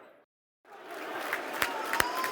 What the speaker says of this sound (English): This is a round of applause for Greg Essex, Millwall fan who passed away sadly.